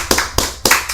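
Close, crisp hand claps on a game show, three or four separate sharp claps in about a second.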